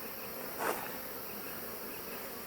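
Honey bees droning steadily around an open hive with swarm cells, a constant close hum with one brief louder pass.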